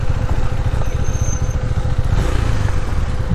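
Motorcycle engines throb loudly and close by in a busy parking area, a continuous low rumble with a faint high whine briefly rising above it.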